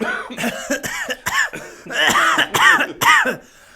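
Repeated harsh coughing in a rapid series of bursts, close and loud, with throat-clearing sounds between fits.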